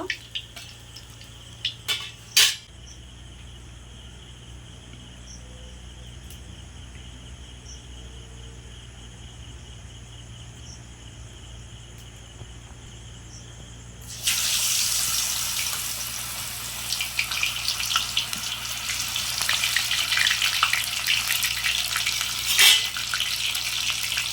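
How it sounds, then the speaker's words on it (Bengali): Onion flower pakoras frying in hot oil, a steady faint sizzle that swells into a loud, dense bubbling crackle partway through and keeps going without a break. "এইভাবে আমি সবগুলো ভেজে নেব।"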